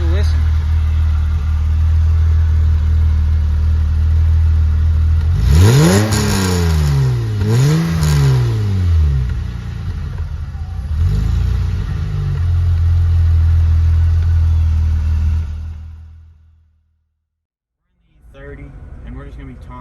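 A BMW E30 325is engine idling loudly up close, then revved twice in rising-and-falling sweeps before settling back to a steady idle, cutting off to silence near the end before faint sound resumes.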